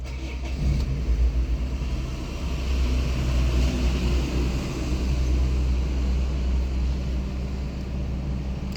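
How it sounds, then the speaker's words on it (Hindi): A car engine running with the air conditioning switched on, a steady loud broadband hum and low rumble held close throughout without talk. "गाड़ी ऑन कर और एसी ऑन कर।"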